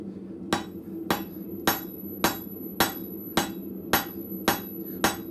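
A blacksmith strikes hot metal with a rounding hammer at a forge, nine sharp ringing blows spaced evenly about half a second apart, close and loud.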